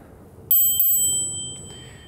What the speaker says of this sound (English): Then we have the bell,